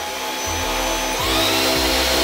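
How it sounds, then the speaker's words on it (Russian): A cordless vacuum cleaner stepping up through suction power modes, its steady whine jumping in pitch and loudness at each switch, loud and close with no talk. "Не надо бояться, это просто пылесос."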